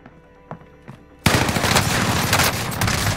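Call of Duty gunfire opens suddenly after a few faint clicks, breaking into a loud, dense burst of rapid automatic shots that carries on without pause to the end.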